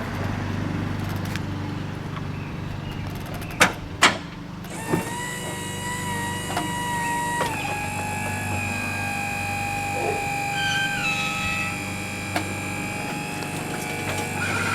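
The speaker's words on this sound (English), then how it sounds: "it has a remote to open and close the doors." Power doors on a van-style Honda Element opening and closing by remote: a few sharp clicks and latch knocks, then a steady electric motor whine that holds for several seconds, close by with no talking.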